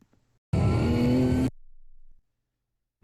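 A car in an SCCA autocross run gets hard on the throttle: a loud, close engine roar rises abruptly for about a second, then drops to a quieter drone before cutting off.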